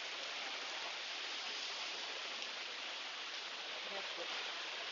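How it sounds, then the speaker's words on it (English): Rain falls steadily outdoors near temples in Telok Ayer, Singapore, a soft, even hiss that continues unbroken throughout at low volume. "Okay, the rain did get better."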